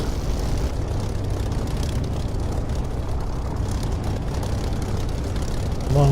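Fixed-wing aircraft engine in the DCS flight simulator, a continuous loud low drone with steady propeller-like rumble, unbroken from start to finish.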